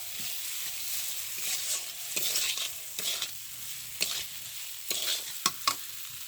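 Boiled potatoes with salt and turmeric fry in a pan as egg curry is cooked village style, a continuous sizzle broken by repeated scraping stirs and sharp spatula taps near the end, with no talking.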